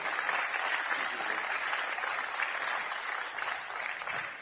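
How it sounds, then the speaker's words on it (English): Applause for a player after a squash match at an Eredivisie event in Amsterdam, steady continuous clapping from a modest crowd throughout, moderately distant with no talk. "Big round of applause for Rui Suarez."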